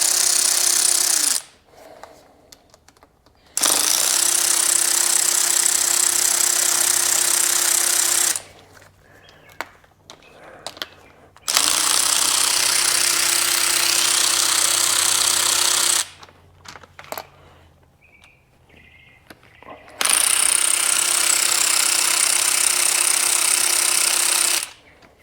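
Power tool, likely an impact gun with a 10 mm socket on an extension and swivel, removing engine bolts from a Bennche Spire 800 UTV. Loud, close bursts of several seconds each, separated by short quiet pauses.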